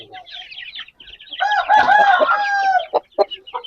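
An Aseel rooster crows loudly and close by, a single long, drawn-out call after some softer clucks and rustling at the start, followed by a couple of brief calls.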